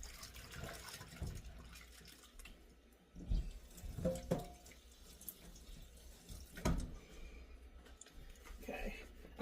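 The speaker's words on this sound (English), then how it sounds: "let me wash my hands real quick." Tap water runs into a kitchen sink while hands are washed during pork tenderloin prep, a steady close splashing hiss with small shifts and drips as the hands move under the stream.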